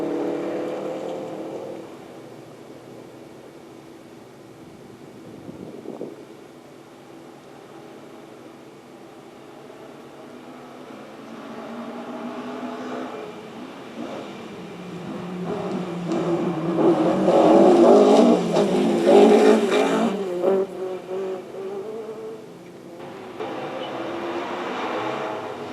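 A Subaru rally car on the Lombard Rally passing on a stage, engine heard faintly at first, then swelling to a loud, gritty roar around the middle before receding, with another approach building at the end.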